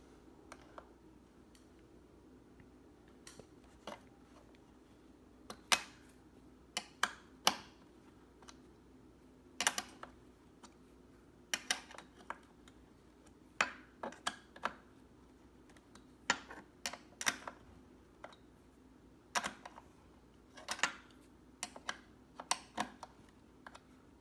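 Small wrench loosening the nuts on a Blitzart motorized skateboard's battery case: quiet, sparse metallic clicks and taps at irregular intervals, close up, with no talking.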